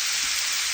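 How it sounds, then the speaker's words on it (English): A brief, steady sizzle of a ribeye steak searing in a hot cast-iron pan, a dense hiss heard close up with no other sounds. "See that sizzle? That's what you want, is that good sizzle going."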